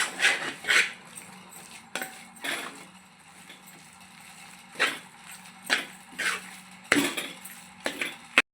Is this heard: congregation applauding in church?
no